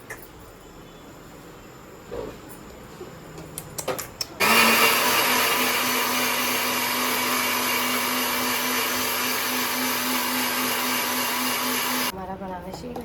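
A kitchen blender whirs loud and steady for about eight seconds while blending a banana shake with milk, honey and ice, after a few clicks and knocks, then cuts off abruptly.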